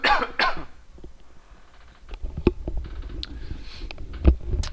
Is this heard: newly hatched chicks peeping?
no